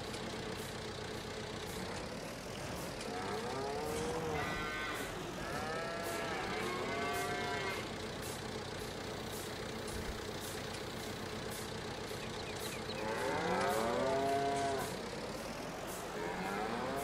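Video game cows in Farming Simulator, several mooing in long, drawn-out calls, some overlapping, over a low idling engine hum in the background.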